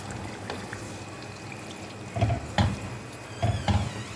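Water is poured from a glass into a pot of beef and bottle gourd in a home kitchen, giving a few short splashing bursts over a low background hum.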